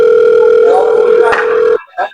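A telephone dial tone plays while a call is being placed: a loud, steady, unbroken tone that cuts off abruptly, followed by a brief faint sound.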